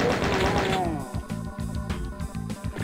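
Rapid gunfire from the video game Doom RAMP, a burst of repeated shots with rhythmic low thumps against a busy background of game music and effects.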